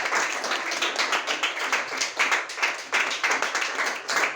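An audience claps for a student who won third place at a school event, a steady, dense round of applause from many hands that carries on evenly throughout, with no speech over it.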